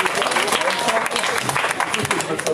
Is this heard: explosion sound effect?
no